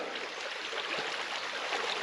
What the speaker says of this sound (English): there's the Rock River.